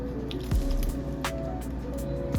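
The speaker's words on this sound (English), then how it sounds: "Then you're just gonna start adding in your macaroni and cheese filling." Thick, wet macaroni and cheese filling squishes and drips as it is spooned into a buttered baking pan, giving a few close, soft squelches over a low background hum.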